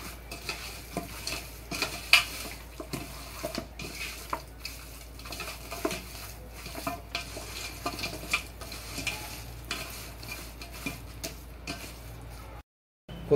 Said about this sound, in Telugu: అన్నీ వేసుకొని ముక్కకి పట్టేలాగా మంచిగా కలుపుకోవాలి.